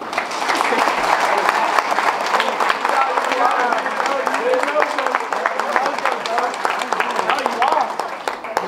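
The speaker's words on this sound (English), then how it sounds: "give them one last round of applause for all they've done for the program" Sustained audience applause fills a room at a college basketball banquet, steady crowd clapping with some voices mixed in underneath throughout.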